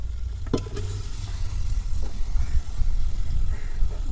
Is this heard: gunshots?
no